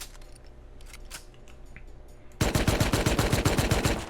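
MP5 submachine gun fire in the video game Rust: after a quieter stretch of a few scattered shots, a rapid, loud burst of automatic fire starts about halfway and continues in an even, fast rhythm to the end.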